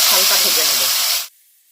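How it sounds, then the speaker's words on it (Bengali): Tomato and capsicum sizzle in hot oil for paneer yakhni, a loud, close, steady hiss that cuts off abruptly after about a second, leaving faint background noise. "টমেটোটা হালকা ভেজে নেব।"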